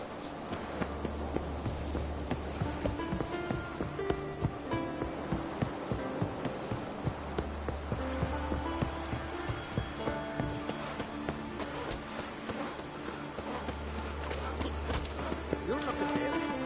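Roach, a horse in The Witcher 3, gallops with rapid, continuous hoofbeats under background music, while a voice speaks over the running.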